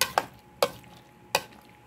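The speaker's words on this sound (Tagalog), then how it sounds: "Haluin lang po natin ng mabuti" A spoon mixes a macaroni fruit salad in a bowl, making three sharp, separate knocks against the side with near silence between them.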